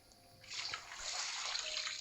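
Water poured from a bucket in a video game makes a soft splashing gush that swells after a quiet start and keeps running steadily to the end.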